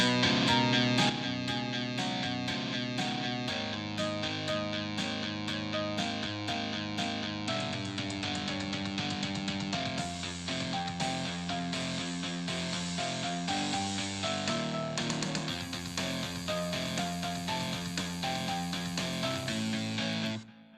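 Cyberpunk metal music composed by GPT-2 plays continuously as a dense, loud wall of distorted, synth-like tones with steady rhythmic hits, ending abruptly with no talk.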